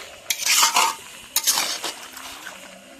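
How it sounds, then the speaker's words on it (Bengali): A spoon stirs a vegetarian dish in a pan with close, scraping, clattering strokes in two bursts and a soft sizzle underneath, with no talking. "খুব সুন্দর করে নাড়াছাড়া করে নেব"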